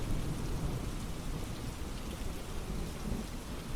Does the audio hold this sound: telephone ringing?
no